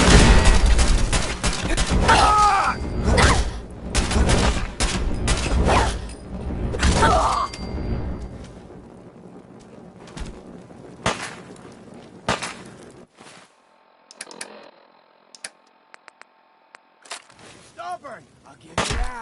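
Gunfire in a Fallout 4 gunfight on PS5: rapid bursts of sharp shots and thuds crowd the first half, then thin into scattered isolated cracks and impacts, with character voices shouting over the fighting.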